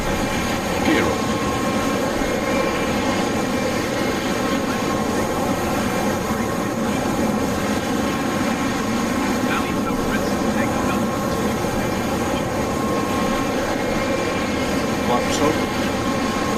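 A BAE Hawk T1 jet in the Just Flight simulator roars steadily through its takeoff roll from RAF Valley, a constant loud engine drone with a whining tone that holds level throughout.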